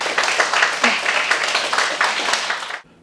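Dense, loud applause from a school audience welcoming a guest speaker at a Korean talk on civilian victims of the Korean War, thick rapid clapping that stops abruptly just before the end.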